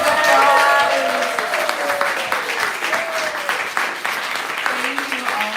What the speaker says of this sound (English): Let's all give the poets one more round of applause.